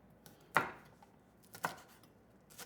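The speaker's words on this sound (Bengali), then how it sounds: "শুটকিটা যতক্ষণ ভেজানো রয়েছে ততক্ষণ আমরা পেঁয়াজটা একদম ফাইন বেরেস্তার মতন করে কাটবো।" Knife chopping onion finely for fried-onion style slices, a few crisp separate cuts spaced about a second apart on a board, close and clear in a quiet kitchen with no talk.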